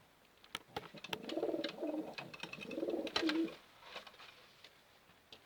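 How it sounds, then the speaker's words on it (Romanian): Pigeons cooing close by in a loft, several soft rounded coos rising and falling in short phrases, with light rustling and wing sounds between them. "Am prins un porumbel"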